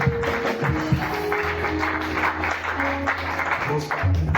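A church congregation at a French-speaking itinerant seminary claps together to acclaim the Lord, a dense continuous patter of many hands with music and voices mixed underneath.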